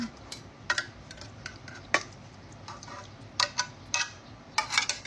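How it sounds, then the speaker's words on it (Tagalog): Pet food is stirred in a dish with a soup mixed in, giving a string of sparse, close clicks and scrapes from the utensil over a quiet background, with no speech. "Haluin muna natin para lumasa sa buong food."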